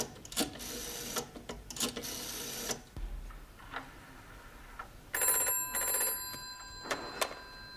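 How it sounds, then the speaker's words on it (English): A telephone rings on a call to a hospital, with a few bursts of trilling bell rings separated by pauses, close and moderately loud, without speech. "I go on phone hospital to see how is Mr. Brown"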